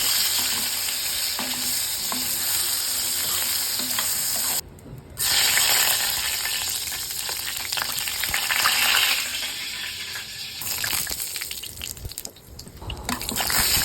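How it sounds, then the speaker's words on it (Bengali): Potatoes frying in hot oil for a mutton kosha dish, a steady close sizzle that runs throughout with a brief dip partway, stirring and faint drips audible alongside. "তারপর এর ফাঁকে আমি আলুগুলো ভেজে নিচ্ছি।"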